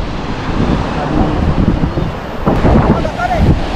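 Wind gusting over open sea around a large boat, a steady broadband rush with buffeting on the microphone and occasional water sounds, continuous and fairly loud throughout.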